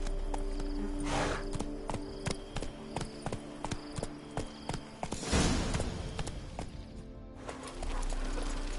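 A horse in a video game gallops with steady, evenly spaced clip-clop hoofbeats, close and clear, briefly swelling with a whooshing surge midway over a low ambient background.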